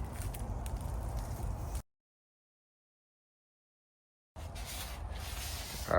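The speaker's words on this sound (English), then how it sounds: "so we got Dorian sanding the one that we already sprayed primer on with 320." Steady scratchy rubbing of 320-grit sandpaper on primed Mercedes W222 seat trim in two close bursts, broken by a couple of seconds of silence.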